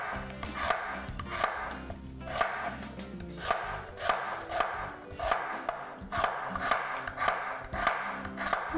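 A knife chops vegetables for grilling on a board in steady, rhythmic strokes, each cut sharp and close, repeating evenly throughout with no talking.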